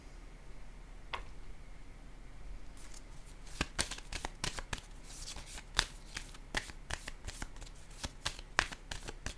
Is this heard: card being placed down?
yes